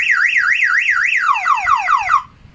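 A fingerprint anti-carnap alarm, set off by turning on a vehicle's ignition switch, wails loudly in a rapid rising-and-falling siren sweep. The pitch sinks lower toward the end before the alarm cuts off abruptly near the close.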